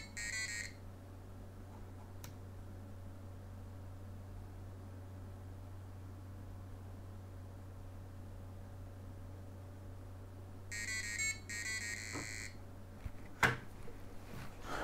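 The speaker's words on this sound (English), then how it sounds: "Okay, so this battery low beeping is already working." A programmed battery-low warning beeper on an electronics board sounds short, high-pitched beep bursts, once at the start and again near the end, over a faint steady electrical hum.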